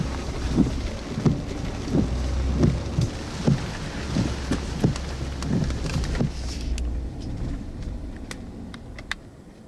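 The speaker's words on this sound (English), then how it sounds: "The rain's intermittent. It's real heavy at times and then it stops" Heavy hurricane rain and gusting wind during a hog hunt, a loud continuous roar with a deep rumbling undertone that drops away near the end, leaving only lighter rain.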